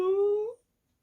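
A dog in a One Piece anime episode gives a single drawn-out whimpering whine that slides upward and then cuts off into silence, clear and close.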